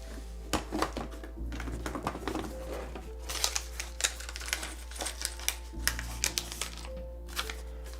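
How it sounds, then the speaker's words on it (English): Keycaps snap and click one after another onto a mechanical keyboard, a Mode Sonnet build, in irregular bursts of small plastic clicks heard close, over a steady low hum. "then we'll put some keycaps on here"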